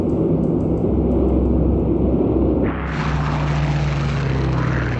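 Steady, heavy droning of WWII aircraft engines from Spitfire fighters and Heinkel bombers, a loud continuous propeller rumble that shifts in tone partway through as the planes close in, with no talking.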